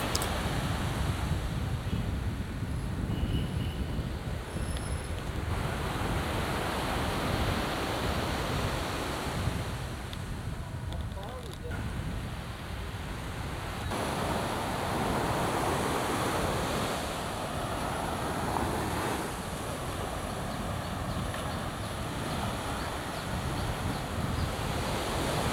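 Indian Ocean waves break on a beach in Sumatra, a continuous loud wash of surf with gentle swells in intensity, mixed with wind buffeting the microphone throughout.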